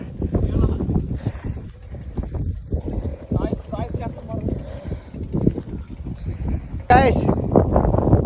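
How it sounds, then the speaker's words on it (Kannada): Strong gusts roar across the microphone at a hilltop viewpoint reached by off-road bike, buffeting in uneven bursts and nearly drowning out the people talking close by. "ಗಾಳಿಲಿ ಏನು ವಾಯ್ಸ್ ಕೇಳಲ್ಲ ಗಾಳಿಲಿ ಆಲ್ಮೋಸ್ಟ್ ವಾಯ್ಸ್ ಕೇಳಲ್ಲ"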